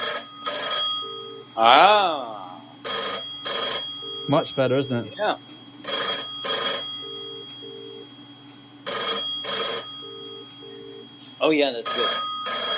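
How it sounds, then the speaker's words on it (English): An old-style telephone bell on a newly wired home phone rings in loud, repeated double bursts about every three seconds. People speak briefly in the gaps between rings. "this is the sound of the new phone."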